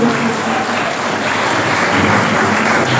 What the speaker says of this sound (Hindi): एक बार जोरदार तालियां इन दोनों मेधावी छात्रों के लिए।